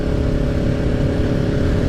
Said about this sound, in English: Bike is a 400cc 2-cylinder engine.